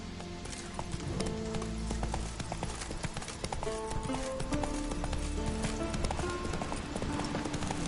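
Horse hooves clip-clop steadily at a ride through The Witcher 3 game world, a continuous galloping patter over layered game music and ambience, with a brief whinny-like tone.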